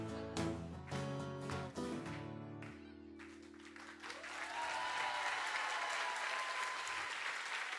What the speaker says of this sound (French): applaudissements, standing ovation